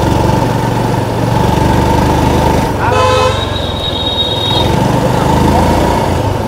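A TVS Sport motorcycle engine runs close by with a steady, throbbing idle, and a brief tonal toot like a horn sounds midway through while the engine keeps going.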